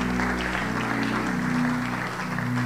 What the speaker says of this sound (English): Keep clapping until they come.